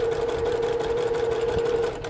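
A sewing machine stitches quilt binding in a straight line, giving a loud, close, steady motor whir with a constant hum that stops abruptly at the end.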